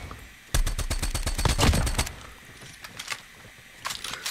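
Rapid automatic gunfire from a video game firearm, a dense burst of fast, punchy shots lasting about a second and a half, followed by a few scattered single shots, loud and close.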